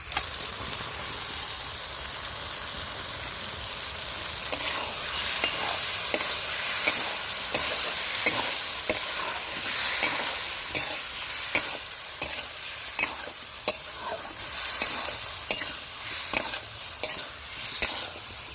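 Potatoes sizzle and fry in spiced oil in a village-style kitchen, with a continuous hiss broken by repeated sharp scrapes of a spatula stirring the pan, growing more rhythmic toward the end.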